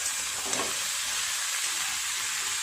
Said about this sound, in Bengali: 4-5 মিনিট এইভাবে নেড়ে চেড়ে মোচাটা একটু ভেজে নেব।